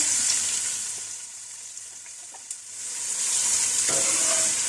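Two medium onions, sliced, fry in hot oil for moti pulao, a close broadband sizzle that dips quieter mid-way, then swells again, with a few faint clinks and no talking.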